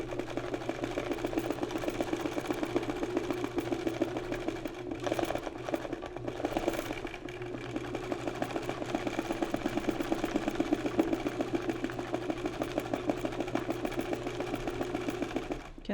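A sewing machine runs steadily, stitching a straight stitch through a watercolor-painted piece; the motor hums continuously and the needle clatters rapidly and evenly throughout, close and alone.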